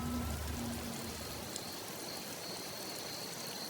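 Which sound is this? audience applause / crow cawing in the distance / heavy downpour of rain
heavy downpour of rain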